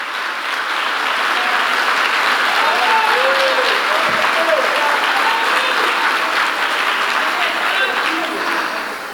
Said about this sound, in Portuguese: Aplaudir o Senhor, pode aplaudir o Senhor.